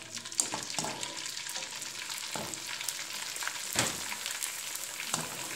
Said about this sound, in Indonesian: ini kerupuk jengkol kita goreng lagi ya